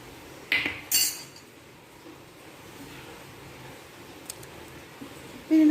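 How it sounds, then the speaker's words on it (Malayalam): A spoon scrapes and clinks against a pot as sautéed masala is stirred into half-cooked beef for a beef and potato curry, with a few sharp metallic knocks over a quiet background. "പിന്നെ നമ്മുടെ ബീഫിലേക്ക് ചേർത്ത് നന്നായിട്ട് മിക്സ് ചെയ്യാണ്"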